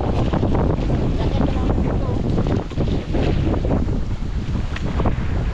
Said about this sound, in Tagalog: Iba kasi yung dating ng hangin, ang lakas.